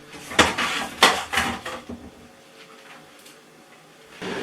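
Courgette and peppers being stirred in a pot for a low-carb keto stew, with several clattering scrapes of a utensil against the pot at first, then quieter handling and another clank near the end.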